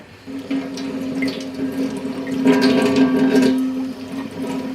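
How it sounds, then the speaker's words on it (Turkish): Red apples are washed under a running tap, with a steady splash of water that swells louder midway and carries on to the end, near and without talk. "Önce bunları yıkamakla başlayayım çünkü yıkamadım"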